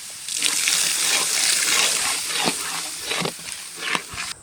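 Water is poured into a pan of vegetable lollipop mixture seasoned with soy, chilli and tomato sauces, giving a steady rushing splash with a hiss, followed by a few scraping stirs.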